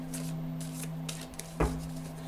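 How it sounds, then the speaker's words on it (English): Tarot cards are shuffled in quick, papery riffles and flicks, close by, with a soft thump near the middle over a faint steady hum. "continuing on with the shuffle here"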